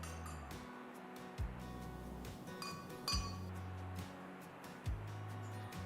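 Tall drinking glasses clink against each other in several sharp, bright strikes spaced a second or so apart, while falooda is layered into them with strawberry jelly, boiled vermicelli and rose syrup; there is no talking.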